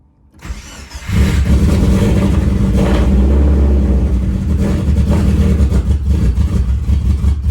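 A Subaru Forester STI engine cranks briefly, then catches and settles into a loud, steady, rumbling idle close by with no talking.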